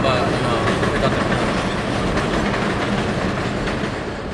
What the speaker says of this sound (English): Of course the train had to come